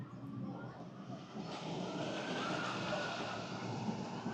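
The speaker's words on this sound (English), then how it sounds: "Oh, there goes Incredicoaster." The Incredicoaster roller coaster train at Disney California Adventure rumbles past in a steady, broad roar that swells slightly midway, heard from nearby against park background noise.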